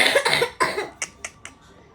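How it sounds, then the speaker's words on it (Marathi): A run of harsh, phlegmy coughs bursts out close by, several heavy coughs followed by four shorter, fading hacks spaced about a quarter second apart. "बघितलं ते खोकला बघा"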